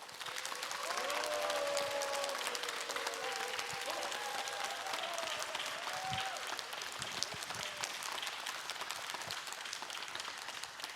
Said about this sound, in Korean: 여러분 큰 박수로 함께 맞아주시기 바랍니다